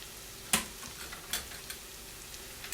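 Peppers and onions frying in a pan for an Italian frittata, a soft continuous sizzle with a few sharp clicks and scrapes of a utensil against the pan, one loud clack near the start.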